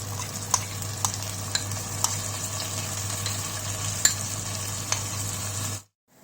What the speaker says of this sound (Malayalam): ഇത് മൂക്കുന്നവരെ ജസ്റ്റ് നന്നായിട്ട് ഇതിൻ്റെ എണ്ണയൊക്കെ തെളിയുന്നവരെ നമുക്കൊന്ന് വഴറ്റി കൊടുക്കണം